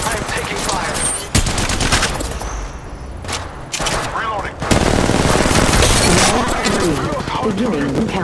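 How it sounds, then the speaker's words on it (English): Sustained automatic gunfire from Apex Legends Mobile, dense rapid bursts filling the whole stretch with brief dips, loud and close, with game voice lines mixed in. "I'm taking fire."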